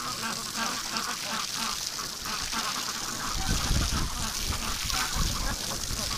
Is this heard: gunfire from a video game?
no